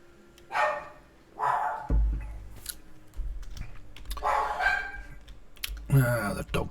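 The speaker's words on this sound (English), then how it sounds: "The dog's barking again." A dog barks in several short, loud bursts spaced a second or more apart. A faint clicking, like keyboard typing, runs underneath, along with low background noise.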